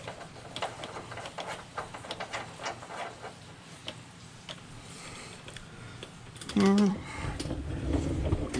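Ratchet clicking while bolts are tightened during a Humvee M998A1 restoration, a series of quick ticking pawl clicks in short runs, close and moderately loud, with a brief voice and some handling clatter near the end.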